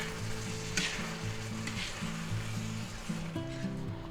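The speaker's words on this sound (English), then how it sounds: "let's let that simmer away a little bit here" A sweet and sour chicken and vegetable stir fry simmers in a pan with a steady, even sizzle and bubbling, while faint tonal music plays underneath.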